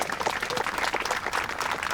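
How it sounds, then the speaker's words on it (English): Steady, even applause from the crowd at a televised landscape painting competition in Yorkshire. The clapping is dense and sustained, with no speech over it. "Let us have a round of applause for our sensationally beautiful bowlers."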